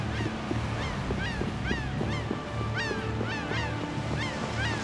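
Seagulls in the video game Tales of Vesperia call repeatedly with rising, squawking cries over a steady background of rolling surf and ambient noise.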